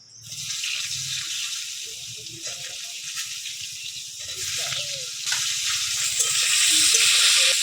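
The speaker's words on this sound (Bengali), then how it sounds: "মাছ ভাজার তেলে আলু আর পটলটা ভেজে নিয়েছি প্রথমে পটলটা ভেজে নেব" Pointed gourd (potol) fries in leftover oil from frying rohu fish in a village kitchen, giving a continuous bright sizzle that grows slightly louder, with a faint voice and low background hum.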